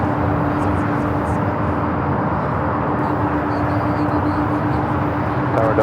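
An Airbus A321neo jet of Spirit Airlines taxis at Los Angeles International Airport, a steady, moderately loud broadband jet rumble with a faint tonal whine, with talk and radio chatter over it.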